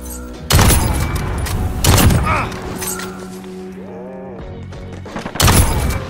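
Sniper gunfire in Call of Duty: several loud, sharp booming shots at irregular intervals amid game effects, with people talking over the action.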